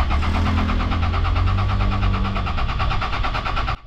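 Toyota Innova with a 2KD diesel engine, running rough after a relief valve change, cranks and churns loudly and steadily at close range for nearly four seconds before cutting off abruptly.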